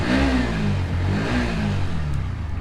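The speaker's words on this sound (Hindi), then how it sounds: "एग्जॉस्ट साउंड तो इस मोटरसाइकिल की अच्छी ही होती है।" A Bajaj Pulsar NS 125 motorcycle exhaust rumbles steadily up close, blipping through a few short revs over its idle without pause.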